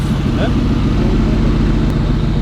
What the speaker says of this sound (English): You can't hear over the exhaust, man